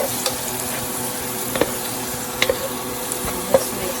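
Garlic fries in a pan over medium heat with a soft, continuous sizzle, broken by a handful of sharp clicks and scrapes as a utensil stirs it.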